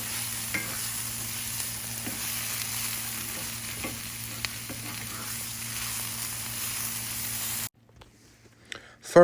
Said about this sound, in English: You should cook your vegetables, I say probably about 5 to 6 minutes until golden brown